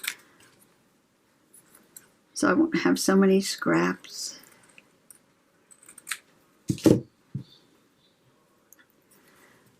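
Scissors snip through a sheet of paper in a few short crisp cuts, close up, after a stretch of speech and between pauses.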